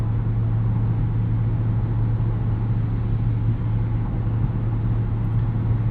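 A 2023 Dodge Charger SRT Hellcat, the 717 hp sedan, cruises with a steady low droning hum and even road roar filling the cabin. The sound stays constant throughout, with no voices.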